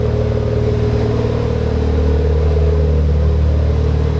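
A Mazda RX-7 FD3S rotary engine with a Pettit Racing catted midpipe idles steadily and loudly nearby, a constant low rumble with a faint rise in revs partway through.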